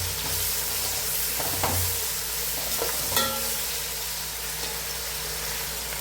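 Crushed garlic is dropped into tomatoes frying in a pan, giving a steady low sizzle with a few soft stirring clatters and light knocks, and no talking.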